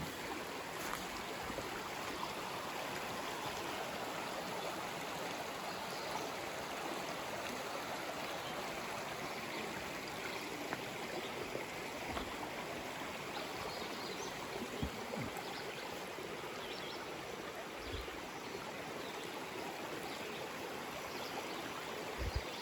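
Steady broadband rush of a stream flowing beside a group campsite at Triple Forks, continuous and moderately close, with no voices over it.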